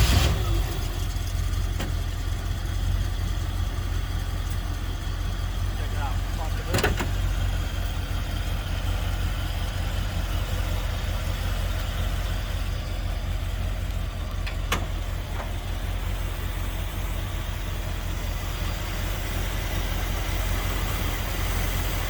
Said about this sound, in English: I'm going to turn the motor and you're just going to listen to it